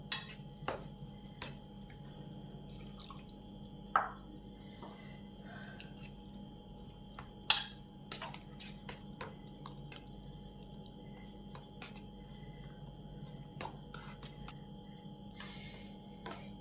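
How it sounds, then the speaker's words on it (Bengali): Small splashes and drips as water is added little by little to a curd and semolina idli batter in a bowl, faint sporadic plops and soft squelches over a quiet kitchen hum. "এবার এক কাপ জল দিয়ে এটাকে মাখিয়ে রাখবো। অল্প অল্প করে জল দেবো।"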